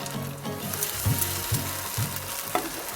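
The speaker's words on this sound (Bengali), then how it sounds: "টমেটো আদা যেটা ভেজে রেখেছিলাম সেটা এবার দিয়ে দিচ্ছি। সামান্য একটু নেড়ে নিয়ে এবার জল দিয়ে দেবেন।" Tomato and ginger masala frying in a pan, a steady close sizzle broken by a few soft stirring scrapes, with a brief hiss near the end as water goes in.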